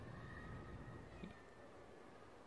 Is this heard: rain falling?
no